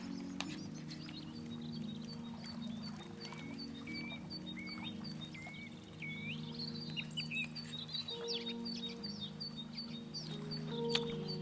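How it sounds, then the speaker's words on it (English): Birds chirp and sing in quick, high whistled phrases throughout, set against a steady low hum with no voices. "Listen to those birds"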